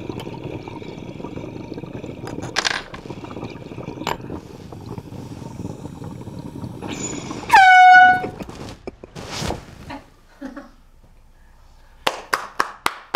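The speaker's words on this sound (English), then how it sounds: "I might accidentally try to hit this air horn" A loud air horn blast with a falling pitch sounds once in the middle, amid scattered clicks and rustling, followed by a few sharp taps.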